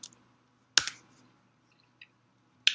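A few sparse, sharp clicks from a computer keyboard, with a single press, a pair of taps and a last click spread apart over a quiet room.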